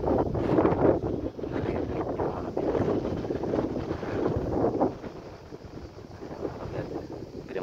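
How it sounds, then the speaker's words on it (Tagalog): Wind roars and buffets the microphone outdoors in a continuous low rumble, easing somewhat partway through, with no voices. "Mahangin din dito"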